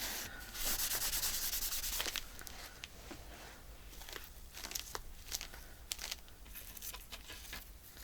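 Glue is rubbed off a paper journal cover at close range with steady, scratchy strokes of the fingers or a cloth. The sound is soft, dry and rasping, with no talk over it.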